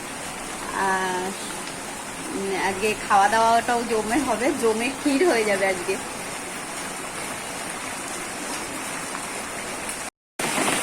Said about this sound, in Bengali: বাইরে বৃষ্টি পড়ছে, দারুণ ওয়েদার।